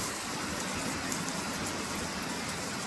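Steady rain falls outside in a garden with a lemon tree, capsicum and pumpkins, making an even hiss of drops with no voices.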